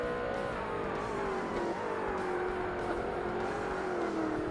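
Race car engine in Forza Motorsport, an R-GTS endurance class car, droning loudly and continuously as it strains through a long left-hand turn, pitch wavering slightly with throttle, no talking.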